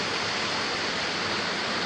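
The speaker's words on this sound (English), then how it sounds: "And there's the waterfalls." Waterfall pouring into a 70-foot sinkhole at Falling Waters State Park in Florida, a loud, steady, broadband rush of falling water with no breaks, heard up close and alone.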